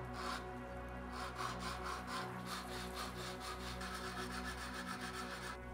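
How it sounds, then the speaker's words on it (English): Styrene plastic spaceship model part being sanded, a steady rasping scrub of rhythmic back-and-forth strokes, quiet and close, over a constant low hum. "So you guessed it, more sanding."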